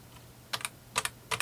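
Three quick pairs of clicks come from keys pressed on a computer keyboard hooked to a Dell Vostro 470 desktop. They are close and crisp, evenly spaced, with no talking.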